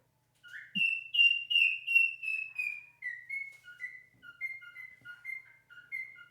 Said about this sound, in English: Oh, the bird has awoken.